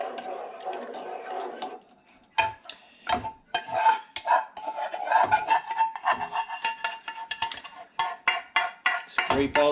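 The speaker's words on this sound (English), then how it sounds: "it's time to stir in our roux. So we're just going to dump it right in and stir." A roux is dumped into a pot of soup and stirred in, with a utensil clinking and scraping against the pot in close, busy, irregular strokes and a few sharp knocks.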